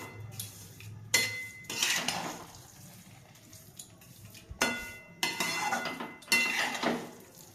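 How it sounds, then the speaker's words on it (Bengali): Pulao with added sugar stirred in a pot with a metal spoon: a few bursts of scraping and clinking against the pot, separated by quiet pauses, close and fairly soft. "ভালোভাবে এবারে একটু মিক্স করে নেব।"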